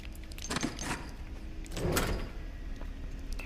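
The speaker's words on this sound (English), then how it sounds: "I'm gonna close the door behind me too." A door in the video game Bendy and the Dark Revival is pushed shut, a few rattling scrapes followed by a heavier thud, fairly quiet against a low background hum.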